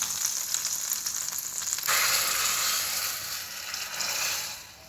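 Fried raisins, cashews and cloves sizzling in hot fat as they are tipped into moong dal payasa, a close hissing crackle that jumps louder partway through, then settles into a steady sizzle.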